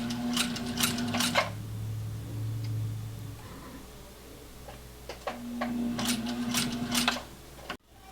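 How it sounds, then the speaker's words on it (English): Sewing machine backstitching along the seam of a light summer fabric face mask, giving two bursts of fast mechanical stitching chatter with a quieter pause between them, close up and without talk. "For this part, I like to go over it twice, so I will backstitch a few times and then continue going all the way."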